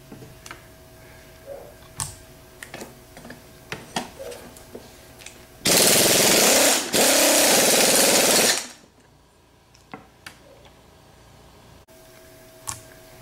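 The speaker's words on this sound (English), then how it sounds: "We're going to use a half inch impact with a 15/16 socket." A half-inch impact wrench with a 15/16 socket loosens the pulley nut on a 1G/2G alternator in two loud, close rattling bursts of hammering. Scattered clicks and handling clatter come before and after.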